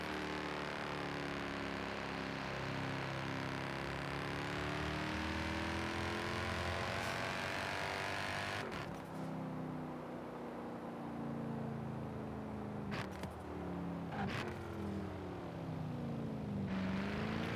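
In Forza Horizon 4, a Mercedes-Benz E63 S AMG drones loudly and steadily at high revs, rising and falling through gears with brief crackles and a few sharp pops.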